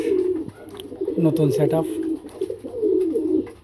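A dove coos in a low, rounded rhythm of repeated notes, fairly close and clear, while a person talks over much of it.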